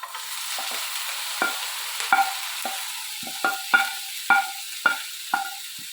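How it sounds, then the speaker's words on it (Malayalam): Onions and beans sizzle and sauté in a pan after mustard seeds have popped, while a utensil stirs them, giving repeated scraping clinks over a steady soft hiss. "ഇതിനകത്തേക്ക് ഇതൊക്കെ ഇട്ടിട്ട് വഴറ്റുവാണ്"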